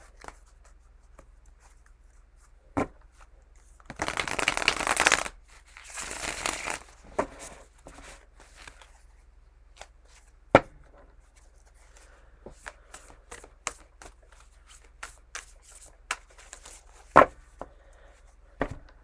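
A couple of close riffle-shuffle bursts of cards early on, followed by sparse single taps and clicks of cards being handled in a quiet room.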